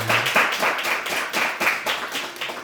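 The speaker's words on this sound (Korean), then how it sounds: "우리 하나님께 영광의 박수 드립니다." A church congregation claps together at the end of a worship service, with steady, rhythmic hand claps repeating quickly and evenly throughout, fairly close and with no talking.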